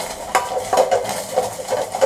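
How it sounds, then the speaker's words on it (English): A spoon stirs a reducing liquid in a pot over a medium flame while preparing a Manipuri Brahmi (pennywort) salad, with several soft scraping strokes and light clinks close by, no talk. "Let's keep on medium flame and keep stirring."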